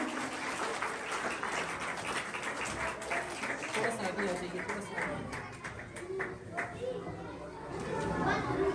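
Audience applause fills a school prize distribution ceremony in Krapa, Buner, a steady, dense wash of clapping with crowd chatter mixed in that holds at an even level throughout.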